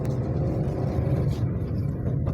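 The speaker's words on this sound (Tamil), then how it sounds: "இன்ஜின் வந்து இந்த ரெவ் ஆகிற சவுண்ட்லாம் வந்து இது கிளியராக கேட்குது." Maruti Suzuki Wagon R VXi with a 1000 cc petrol engine revving in traffic, a steady low rumble that stays loud throughout.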